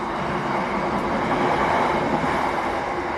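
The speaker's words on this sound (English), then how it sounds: "Oh, it's a freight train as well, so it's going to take ages to go past." Freight train rumbling past at length, a loud steady broadband roar with grinding wheel noise filling the whole clip and no talk over it.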